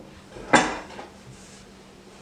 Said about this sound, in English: I'm going to cut off the ends just like I did with the orange.